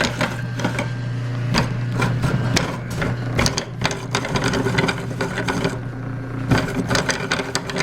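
A homemade foam grinder shredding couch cushion foam runs with a steady mechanical whir, hum and rapid irregular clatter, loud and close throughout.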